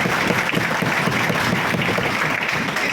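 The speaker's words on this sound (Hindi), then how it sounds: "भाई तालियों की गड़गड़ाहट इतनी कम है" An audience at an INSO student organisation meeting with Punjab University members claps together, a dense, steady patter of many hands lasting a few seconds, fairly loud and close with no voices over it.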